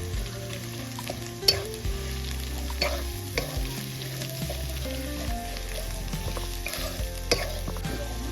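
Ground masala paste sizzles and fries with roasted onion in a pan over a wood-fired stove for chicken, a steady close crackle with occasional stirring scrapes and clinks.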